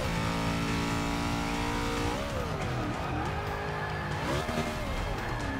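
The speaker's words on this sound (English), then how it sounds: "now it's just freaking burning rubber" Car tires burning rubber under full throttle, a loud continuous squeal with engine revving and pitch sweeps as gears change, close and unbroken throughout.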